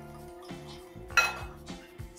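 A whisk beats an egg and room-temperature milk mixture in a bowl, giving a few close, irregular clinking strokes against the dish with a wet, liquid slosh between them.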